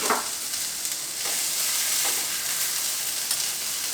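Food sizzles steadily in a frying pan while huitlacoche soup is made, with a constant crackling hiss and a few soft stirring scrapes, close up and without voices.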